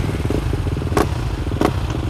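Supermoto motorcycles riding together, one a Duke, with a steady close engine drone and two brief bright bursts of revving or clatter.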